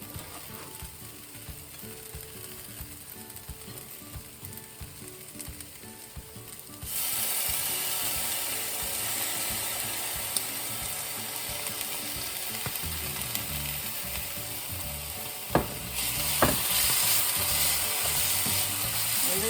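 Ground beef and garlic sizzle in a frying pan on a home stove, starting as a quieter crackle and then swelling into a loud, steady hiss with occasional scraping stir sounds.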